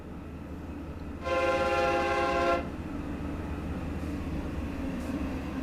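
Two freight locomotives running together in Train Sim World 2 on Sand Patch Grade, a steady low engine rumble under a loud, sustained horn blast lasting over a second.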